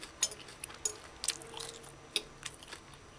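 Crunchy chickpeas in a saltfish and chickpea pepper stew being chewed close up, a string of quiet, irregular crisp bites and crunches with soft squishing in between.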